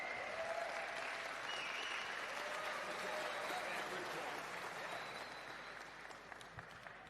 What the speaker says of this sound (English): Ladies and gentlemen, massive round of applause for Shanghai of China.